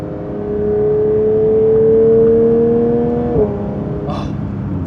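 A Porsche 992 GT3 flat-six engine holds a steady, loud drone that rises slightly in pitch, then drops abruptly at a gear shift and carries on at a lower tone, with no voices over it.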